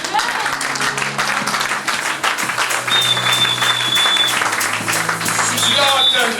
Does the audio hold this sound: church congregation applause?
yes